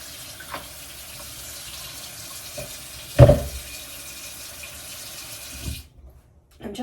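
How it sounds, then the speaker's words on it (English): Extremely cold well water runs and pours over freshly made homemade butter in a kitchen, a steady soft trickle with one louder splash midway before it stops. "I'm going to go ahead and add some cold water"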